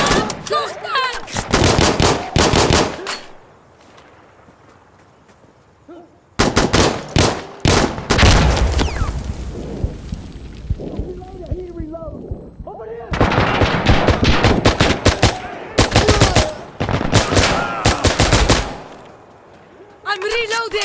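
Bursts of automatic HK416 rifle fire in Insurgency Sandstorm, rapid loud volleys in several clusters separated by brief pauses, with a high ringing tone and shouted voices mixed in between shots.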